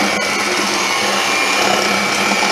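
An electric mixer whirs continuously and loudly as it aerates dry cake mix for cookies, a steady high motor hum with no talk.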